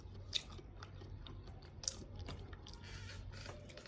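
Close, crisp crunching bites and chewing into a flaky croissant, a few sharp crackles standing out over quiet background.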